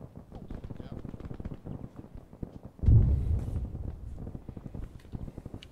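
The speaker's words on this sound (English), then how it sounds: "And that's mortar." Mortar fire in the Arma 3 military game lands as a single heavy low boom in the middle, rumbling briefly beneath a steady stream of rapid distant gunfire clicks, with voices talking over it.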